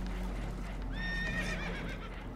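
Spooked horses in the video game Red Dead Redemption 2 let out a sharp, wavering whinny aboard a boat taking on water, heard briefly over a low, steady background rumble.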